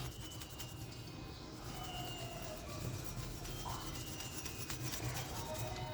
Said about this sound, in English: Just apply a bit of WD-40 and just clean it off.